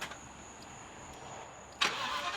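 The salvaged Thor RV's engine cranks and catches near the end, a sudden loud burst that settles into a steady running rumble after a quiet stretch of faint whine.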